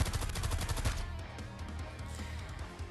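Gunfire barrage from Exia in the Arknights video game, a fast rapid-fire burst of loud shots for about a second, then fading into a lingering echo and ambient tail.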